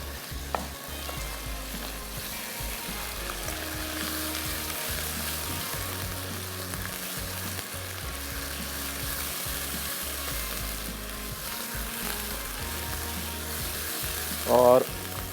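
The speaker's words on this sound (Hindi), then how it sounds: "इसमें शामिल करेंगे अब थोड़ा सा लहसुन अदरक का पेस्ट। और कीमे की करनी है अच्छे से भुनाई।" Minced beef frying in a pan with garlic-ginger paste and browned onions, giving a steady close sizzle with stirring throughout and a brief louder burst near the end.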